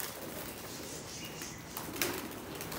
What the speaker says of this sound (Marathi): आता कबूतर खोलले गेले आपले सर्व, आता मस्त मस्ती वगैरे करतील